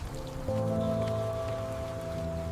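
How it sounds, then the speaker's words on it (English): Heavy storm rain pours in a steady, dense hiss, with a sustained humming tone running underneath throughout. "The rain is too strong now"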